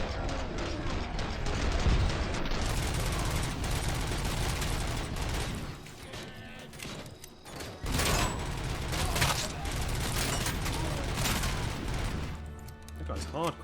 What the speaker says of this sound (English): that was the guy with the grenade launcher